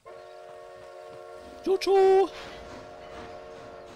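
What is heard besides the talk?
train running in the video game Red Dead Redemption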